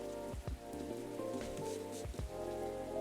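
Steady rain patters continuously in the cozy cafe game Coffee Talk, a soft even wash of drops under low music, with no voices.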